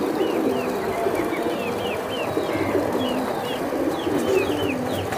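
Silver Giribaz pigeons coo in a loft, their soft rolling calls repeating steadily over a dense murmur of other birds, with a few higher chirps scattered across the background.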